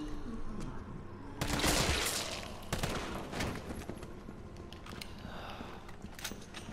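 Gunfire in Resident Evil 3 at the R.P.D. station as a monster is shot repeatedly, loud cracks and a dense burst of shots early, then scattered firing and game ambience.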